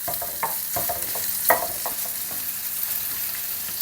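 Kimchi fried rice frying in a pan, with a steady soft sizzle of oil beneath scattered scraping and stirring taps, one louder clack near the middle, close and continuous with no talk.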